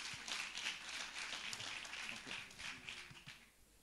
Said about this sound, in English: a big applause to Tim, one of the key persons behind this event